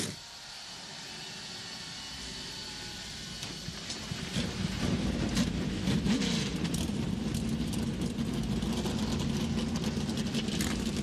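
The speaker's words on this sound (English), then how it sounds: "Drivers, start your engines!" NASCAR Cup Series stock car engines at the AdventHealth 400 fire up and settle into a loud, dense idle, rumble swelling from a quieter start to a sustained roar with a rising rev partway through.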